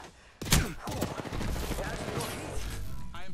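Gunfire striking the player in a squad-based shooter video game, a dense burst of impacts and shots that starts sharply and keeps up as continuous loud combat noise, with some game voice mixed in.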